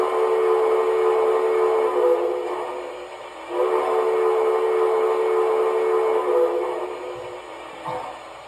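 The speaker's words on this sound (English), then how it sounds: "Got a nice sounding, deep toned whistle to it." An MTH C&O 610 Greenbrier model steam locomotive sounds a deep-toned steam whistle in two long sustained blasts, the first fading briefly before the second, clear and fairly loud against quiet.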